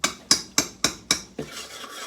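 A spoon stirs a vegan flour roux in a pot, scraping out five sharp, evenly spaced strokes close up before settling into a softer, continuous scrape.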